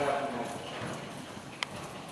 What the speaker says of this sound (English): So you're good 4 beats, slow, flat walk gait.